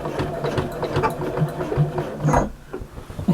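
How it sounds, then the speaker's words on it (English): A home sewing machine stitches straight across several layers of a large fabric bag at a half-inch seam allowance, a steady mechanical whir running close and continuous before briefly easing off. "So you're stitching right across. So you're catching all of those layers."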